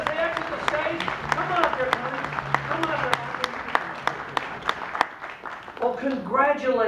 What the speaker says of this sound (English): Let's give all the contestants a big round of applause as they exit the stage.